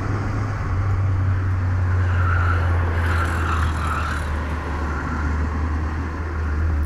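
A car engine hums steadily with a low, constant drone, joined by broadband road noise throughout.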